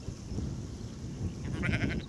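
Freshly shorn sheep in a field bleat faintly in a wavering call near the end, over steady outdoor wind noise.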